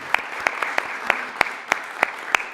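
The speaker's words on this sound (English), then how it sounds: "I guess we can give a little round of applause now." A handful of people clapping at a school bond measure forum, sparse evenly spaced claps standing out over a low background murmur.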